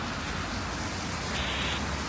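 Steady rain falls outdoors as a constant broadband hiss, fairly even throughout, without any voices.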